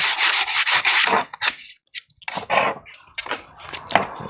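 Hand sanding along the edge of a plastic Stormtrooper-style forearm armor piece that will be butt-joined and glued, heard as several quick close scraping strokes in bursts with short pauses between them.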